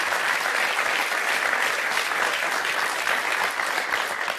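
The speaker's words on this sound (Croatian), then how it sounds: "Molim, zatim jedan veliki aplauz za njega." Loud, sustained applause from a large studio audience on a Serbian late-night talk show, a thick continuous wash of clapping that holds steady throughout and tapers only slightly at the end.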